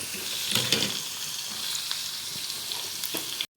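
Garlic frying for a molokhia tasha gives a steady, close sizzle and crackle with a few brief stirring clicks, running alone without any talk.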